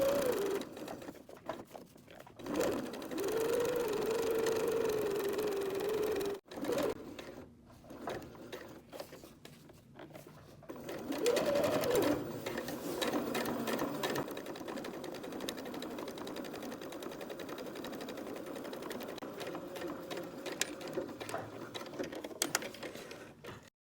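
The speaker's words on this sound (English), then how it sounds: "we go ahead and backstitch just a wee little bit" A sewing machine stitches pieces of fabric for a heart mobile at a stitch length of 3, running in steady whirring bursts with a brief backstitch. A short pause breaks the stitching before it resumes and runs continuously to the end.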